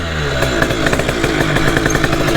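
A modified Derbi Racing moped, converted to an 80cc Bidalot kit and running slightly rich, revs hard in neutral. The rapid, raspy two-stroke crackle is loud and close, with no talking over it.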